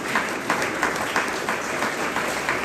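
Church audience applauding at a tabernacle gathering, a dense steady wash of many hands clapping with small rhythmic swells, fairly close and loud, no talking.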